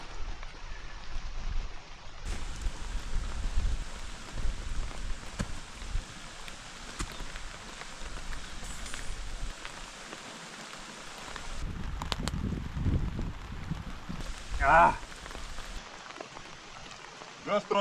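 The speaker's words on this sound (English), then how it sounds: "Just right when I have dinner, mother f***ing rain comes." Rain falls at a motorcycle campsite, steady patter on surfaces around the campfire, continuous and moderately loud, with a brief rustle midway.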